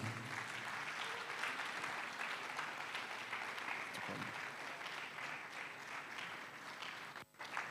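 Conference audience clapping for an award winner at an e-learning week closing ceremony, a dense, even wash of applause heard at a distance and fairly faint, continuing steadily before a brief dip near the end.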